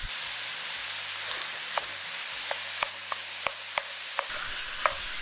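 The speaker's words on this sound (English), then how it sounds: "I like to spread the meat out nicely in the pan so that it browns" Ground meat browning over high heat in a pan for Greek pastitsio, a soft steady sizzle under a string of sharp, regular scraping taps from stirring, close and moderately quiet.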